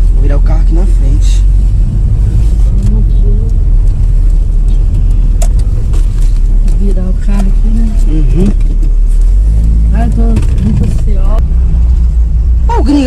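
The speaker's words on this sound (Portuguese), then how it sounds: "Vou virar o carro aqui na frente." Car engine rumbling steadily close by from inside the vehicle as it turns around on a street, with people talking over the sound.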